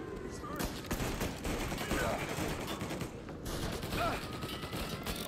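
Dense gunfire fills a firefight in Mafia Definitive Edition, a continuous clatter of rapid shots and mechanical clicks that keeps up steadily from start to end.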